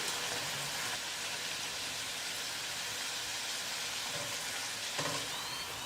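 Puri frying in hot oil in a home kitchen, a steady close sizzle and bubbling hiss running throughout with a faint stir or scrape near the end, no talk.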